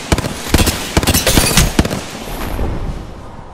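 Gunfight in the Apex Legends video game, with rapid bursts of gunfire crackling in quick clusters during the first two seconds, then fading into a lingering rumble with no talk.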